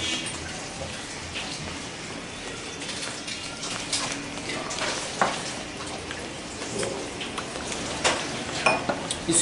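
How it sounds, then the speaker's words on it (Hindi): Strawberry dessert being mixed with condensed milk in a bowl, a steady wet, crackly stirring texture running throughout with small clicks and splashes, close and moderately loud, no voices. "इसको मिक्स कर लें।"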